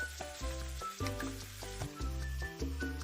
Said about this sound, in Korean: 두부가 포슬포슬해졌다면 오일 한 스푼을 넣고 가볍게 볶아주세요